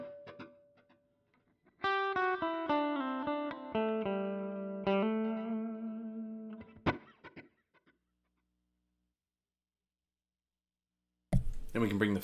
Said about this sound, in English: Let me turn the reverb off so we can just hear the delay.